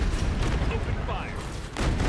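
Ships in the Anno 2205 video game open fire in a dense, rumbling barrage of overlapping booms and blasts, loud and continuous, with a voice speaking over the gunfire.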